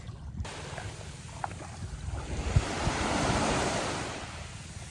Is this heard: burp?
no